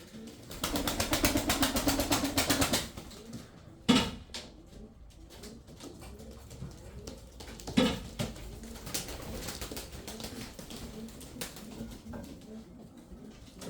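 Tumbler pigeons in a loft coo in soft low repeated calls, with a louder rustling burst early on and occasional knocks and wing flutters.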